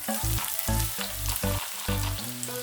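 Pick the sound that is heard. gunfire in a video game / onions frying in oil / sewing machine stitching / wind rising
onions frying in oil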